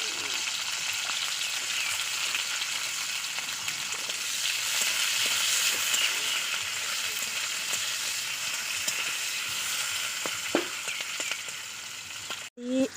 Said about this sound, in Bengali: এবার ক্যাপসিকামটা ভেজে নিচ্ছি